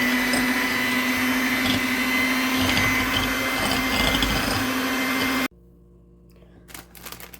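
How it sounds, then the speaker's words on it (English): A hand mixer whirs steadily and loudly, blending brownie batter of water and oil for chocolate cherry brownies, running continuously for about five seconds before cutting off abruptly, leaving quiet kitchen sounds and a few faint clicks. "I'm going to mix it with my blender. My hand mixer, I should say."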